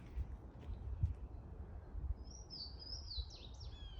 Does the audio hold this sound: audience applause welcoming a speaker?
no